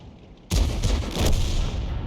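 Enemy artillery in World of Tanks opens with a sudden loud boom, followed by a sustained rumbling roar and a second blast, all close and with no talk.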